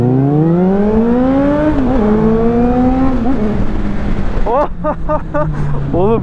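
A Mercedes-AMG A45 S engine revs up and climbs in pitch, loud and sustained, briefly dipping before rising again, with voices chattering over it toward the end.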